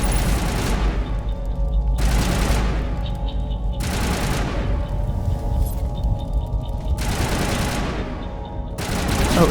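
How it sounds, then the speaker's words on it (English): Sustained bursts of gunfire in the Mass Effect video game, loud and dense, with several heavy volleys repeating every couple of seconds over a constant low rumble. "Who is shooting at us?"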